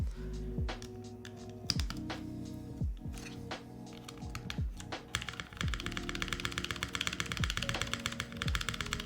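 Arc60 mechanical keyboard typing with Nixie switches, fairly quiet and soft, starting with scattered deep key thocks and building into a fast, steady stream of keystrokes close by.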